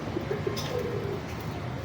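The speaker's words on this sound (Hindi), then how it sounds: "लें जी दोस्तों, कोशिश तो यही होती है आपको तगड़े से तगड़े कबूतर दिखाऊं।" Big breeder pigeons coo in soft, repeated low calls, close by and steady, with no talk over them.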